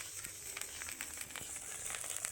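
Rice grains puffing in hot sand in a home kitchen, making puffed rice: a dense run of small crackles and sizzling pops, close and fairly quiet, steady throughout with no talking.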